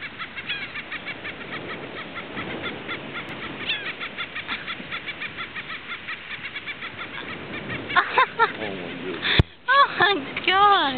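Seagulls giving mating calls at close range, a stretch of repeated harsh cries and flutter that ends in a burst of loud squawks, with people talking over it.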